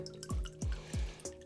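Water dripping from a hot water tank line in a house: four distinct drops fall at a slow, even pace, close and fairly quiet, each with a short plinking ring.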